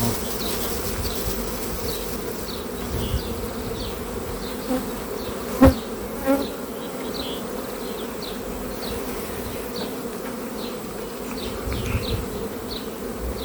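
A steady drone of many honeybees buzzing fills the air, with individual bees zipping past close by now and then.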